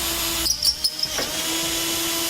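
A power drill enlarges a pilot hole to final size in a 2014 Jeep Grand Cherokee bumper beam for a tow base plate, giving a short, close, whining burst of about a second amid steady background hum.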